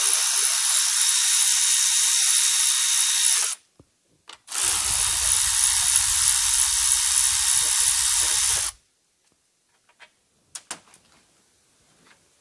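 A power tool spins out 8 mm bolts on a battery tray during a VMAC VR150 install, with two loud, sustained buzzing whirs separated by a brief pause, then quiet with a few small clicks.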